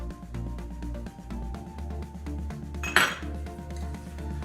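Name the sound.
mixing stew beef in a bowl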